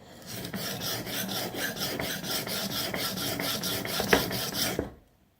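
A steel knife blade is drawn over a whetstone in steady, even back-and-forth strokes, a close rasping scrape of about nine passes that stops abruptly, with no voices.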